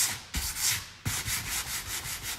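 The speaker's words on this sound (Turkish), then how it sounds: "başlıyorum şöyle bazı noktalarını zımparalamaya" Hand sanding of a painted decorative panel coated with clear wax over black paint, a close, steady rubbing scrape in repeated strokes with two brief pauses, alone with no voices.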